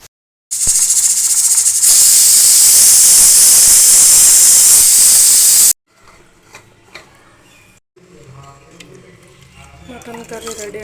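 A pressure cooker holding mutton curry lets out a loud, continuous steam hiss for about five seconds and then cuts off abruptly, leaving quieter kitchen clatter and faint background sounds.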